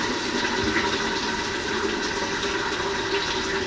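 Steady rushing of water poured through a funnel to top up a container while making mead, a continuous gushing fill with no pauses, close and fairly loud.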